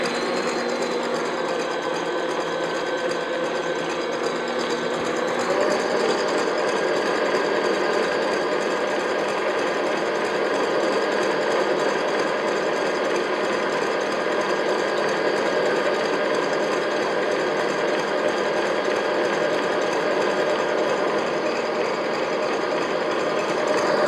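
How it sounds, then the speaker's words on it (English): An electric mixer runs at medium-high speed, beating egg whites with sugar. It gives a steady, continuous motor whir with a slight shift in tone partway through, close and alone for the whole stretch. "I'm going to add that gradually while the mixer is running and have it at about medium-high speed"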